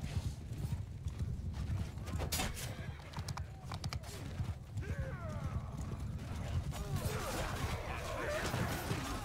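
Cavalry horses charge in a Mount and Blade II Bannerlord battle, hooves thudding in a dense clattering stream, with neighs, clashing metal and crashes rising toward the end.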